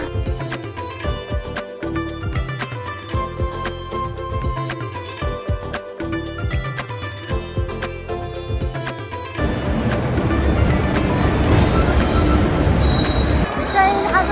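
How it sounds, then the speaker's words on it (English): A train rumbles in with repeating clatter, then a loud, sustained high metallic wheel squeal takes over as it slows, close by. "The train has arrived and it's only 30 minutes late"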